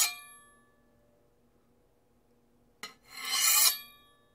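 A spatula scraped down a hard surface to mimic a sword being drawn from its sheath: a metallic ring fades out first, then after a quiet pause a single bright, rasping scrape swells and cuts off, close and loud.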